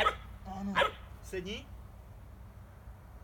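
A dog gives a few short, sharp barks or yips during obedience training, mixed with a person's nearby commands and praise.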